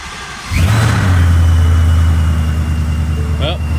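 A 1000hp Ford Mustang engine bursts to life after a quiet moment and settles into a loud, deep, close rumbling idle that holds steady to the end.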